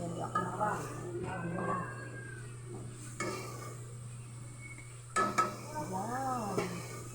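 Meat for batchoy is stirred in a frying pan until golden, giving intermittent scraping and clattering strokes over a soft, steady sizzle, with a voice talking faintly now and then.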